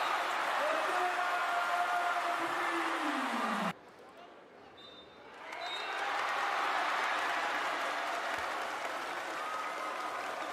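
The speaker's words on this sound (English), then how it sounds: "So they applaud" A basketball arena crowd applauds after a last-second game winner in a B.League game between Koshigaya Alphas and Levanga Hokkaido: a dense wash of clapping that cuts out abruptly midway, then swells back in and continues.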